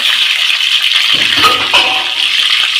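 Water rushes steadily as ingredients for a Chettinad-style fried rice are washed, a continuous splashing flow with a brief deeper slosh in the middle.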